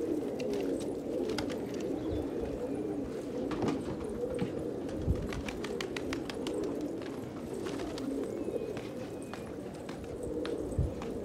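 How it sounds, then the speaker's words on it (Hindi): A large flock of desi gola pigeons, well over a hundred birds, coos continuously in layered, overlapping murmurs, punctuated by scattered clicks and soft flutters, with no talk over it. "शानू भाई कितने कबूतर?"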